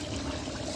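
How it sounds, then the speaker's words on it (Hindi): Yakhni, a meat stock for Hyderabadi beef biryani pulao, poured into the cooking pot. The liquid gives a steady, close, moderately loud stream with a continuous splashing wash and no voices. "ये हमने डाल देनी है अब यखनी"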